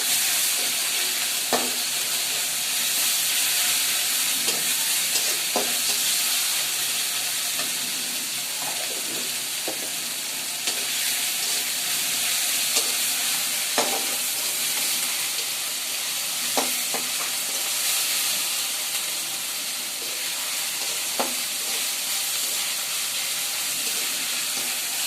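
Ginger, garlic, spices and cumin frying in a pan with a loud, constant sizzle, broken by occasional sharp clicks and scrapes as the mixture is stirred.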